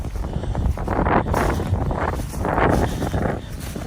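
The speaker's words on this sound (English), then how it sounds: "It's a south wind" Strong south wind blowing outdoors during a flood, roaring and gusting across the microphone in loud, rumbling surges that swell and ease over a few seconds, with no voices.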